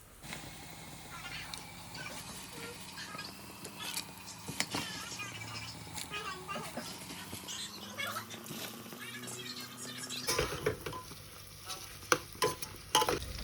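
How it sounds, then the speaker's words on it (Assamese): Onions frying and being stirred in a pan, a steady sizzle with scraping spoon strokes and a few sharp clinks, plus a faint voice in the background. "পিঁয়াজটো অলপমান সিজি লওক নহ'লে কেঁচা হৈ থাকিলে খাওঁতে বেয়া লাগিব সেইকাৰণে অকণমান ভাজি লওঁ"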